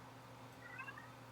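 A pet cat lets out a faint, brief upset meow over a steady low indoor hum, heard alone without talk.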